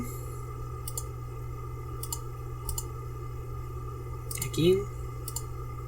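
A handful of crisp mouse clicks sound at uneven intervals over a steady electrical hum, with a brief low vocal sound near the end.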